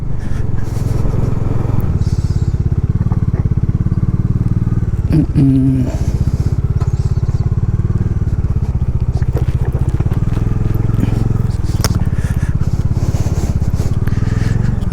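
Motorcycle riding a rough, broken mountain road in Ladakh between Diskit and Pangong Lake, its engine a steady loud drone with scraping and clattering from the rear tyre slipping on loose ground, continuous throughout.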